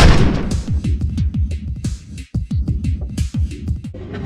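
Rapid bursts of gunfire in an action film shootout, dense repeated loud cracks and booms in quick irregular succession, close and continuous with a brief gap midway.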